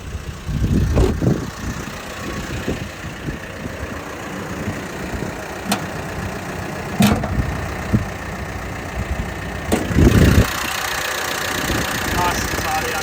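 A 2016 Mitsubishi Triton GLX Plus 4x4 dual-cab ute idles with its hood open, giving a steady low rumble broken by occasional clicks and knocks, with faint voices now and then.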